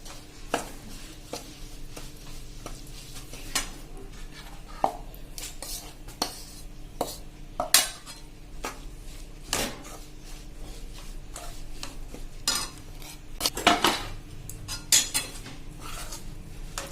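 Flour is stirred into hot ghee and sugar syrup for sukhdi, with a spoon scraping and clinking against the pan in irregular bursts over a quiet background, without speech.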